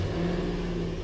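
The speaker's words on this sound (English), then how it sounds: "Let me turn truck on." A Nissan Frontier pickup's engine runs in a steady, close idle right after starting, a low humming drone with no voices.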